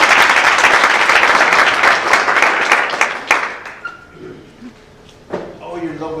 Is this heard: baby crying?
no